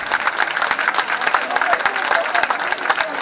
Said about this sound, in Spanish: estos aplausos vienen a subrayar que seguramente se haya solucionado el problema